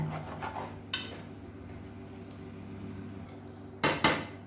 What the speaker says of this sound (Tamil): இப்போ இது மேலாப்பில் லேசாக கிளறி விடணும்.